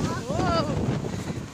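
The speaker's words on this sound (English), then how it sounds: "Oh, it's windy, windy, windy." Wind blusters across the microphone in a steady roar, with a brief voice over it.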